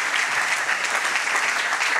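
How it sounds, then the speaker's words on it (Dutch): An audience at a book presentation claps for the authors, an even, moderately loud patter of many hands that stays steady throughout without voices rising above it. "Dus mag ik u vragen om een applaus voor Remy Limpach en Azaria Hamani"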